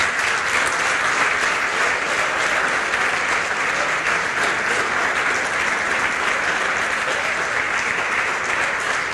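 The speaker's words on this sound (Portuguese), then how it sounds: "aplaudir Jesus por essa bendita palavra" A church congregation at a Sunday morning anniversary service gives loud, sustained applause, a dense even roar of clapping that holds steady from start to finish.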